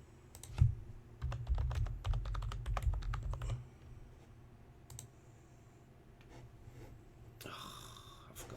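Rapid keyboard clicks for about three seconds, clustered in bursts with brief pauses, then a few scattered taps. Recorded close and moderately loud, with no talking.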